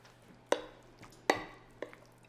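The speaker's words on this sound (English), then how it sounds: "And now we're gonna stir it up" A utensil working pesto ravioli filling in a bowl, three distinct clinking knocks spaced about a second apart over quiet soft mixing, close by.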